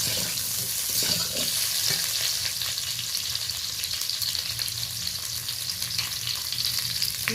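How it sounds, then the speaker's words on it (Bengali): Fried mango pieces are stirred into a mustard-seed tempering, giving a continuous loud sizzle with occasional stirring scrapes, no voices. "এবার আমি ভেজে রাখা আমটা এর সাথে দিয়ে দেবো। ভালো করে ফোড়নের সাথে নেড়ে নিচ্ছি।"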